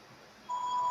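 A mobile phone rings with a steady electronic tone that starts halfway through, clear but modest in level over a quiet room.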